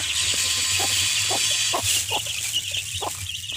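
Striped domestic chickens cluck in a backyard flock, a run of short, evenly spaced clucks over a steady background hum, close and moderately loud with no talk.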